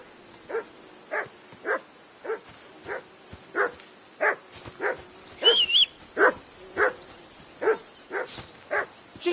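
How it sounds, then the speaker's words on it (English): A dog barks repeatedly in Kingdom Come Deliverance 2, a steady run of sharp, evenly spaced barks at moderate distance, with a brief whine mixed in midway. "Henry, that barking's driving me nuts."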